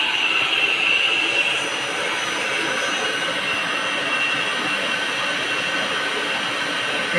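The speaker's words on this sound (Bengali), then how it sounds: "দেখতে পাচ্ছেন 50 হার্জে পানি হচ্ছে ফুল স্পিডে।" A 2 HP solar water pump with a 3-inch delivery pipe runs at full speed, giving a steady, loud, continuous rush of motor and gushing water with no break and no voices.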